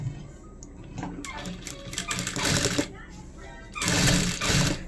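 A sewing machine stitches blouse fabric in bursts of rapid mechanical whirring, a longer run in the middle and another near the end, with someone talking between and over the stitching.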